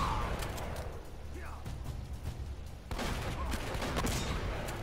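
Gunfire in Uncharted, a run of close sharp shots and bursts over a rushing game backdrop, with a heavier volley near the end.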